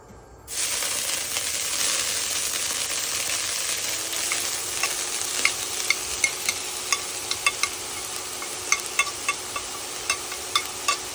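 Lemongrass spice paste hitting hot avocado oil in a pan for stir-fried crawfish, a sudden loud sizzle that holds steady while a utensil scrapes and taps the pan in regular clicks.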